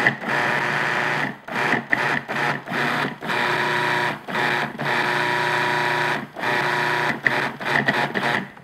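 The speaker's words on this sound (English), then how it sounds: "we're just going to pulse this for a bit" A food processor pulses pastry dough for homemade toaster pastries in a short series of loud, close motor whirs. Each burst is cut by a brief silence, with a few faster stop-start pulses near the end. No one speaks.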